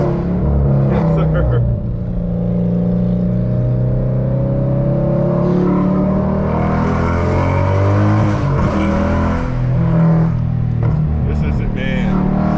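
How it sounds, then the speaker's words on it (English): A Dodge Charger Scat Pack V8 rumbles and revs hard under acceleration from inside the car, deep throaty engine roar rising and falling through several pulls, with someone talking over it. "let y'all hear that V8"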